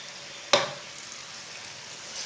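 Finely chopped tomato and green chillies frying in a pan for an aloo palak sabzi, opening with one sharp clack before a soft, even sizzle carries on alone.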